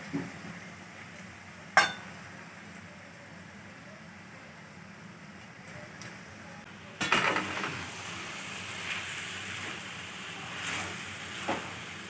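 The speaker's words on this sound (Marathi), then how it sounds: "आता पोहे चांगले परतून घ्यायचे आहेत" Soaked poha, flattened rice, is stirred and sautéed in a pan, a soft low sizzle with a couple of sharp spoon knocks and louder scraping toss from partway through, close and without talking.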